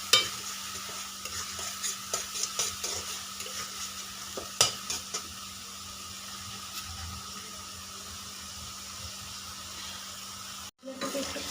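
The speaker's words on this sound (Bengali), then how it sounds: "এই মশলাটাকে একটু কষিয়ে নিচ্ছি" A spice paste with turmeric and salt is sautéed in a pan, with a string of stirring scrapes and taps over a soft sizzle early on. A quieter steady sizzle follows, then a brief dropout near the end.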